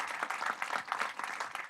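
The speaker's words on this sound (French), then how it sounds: "On peut applaudir." Audience at a VFX and animation practitioners' round table applauds, with a brief burst of many hands clapping at moderate level.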